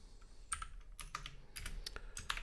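Quick, uneven keystrokes clatter on a computer keyboard while code is being entered in the Pico-8 fantasy console, with small bursts of clicks and short pauses and no talking.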